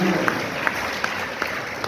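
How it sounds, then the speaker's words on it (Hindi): Light audience applause at a lecture gathering, with scattered claps sounding over a quiet hall for a couple of seconds. "तो इनके लिए भी ताली बजाएं, उनका भी स्वागत करना है।"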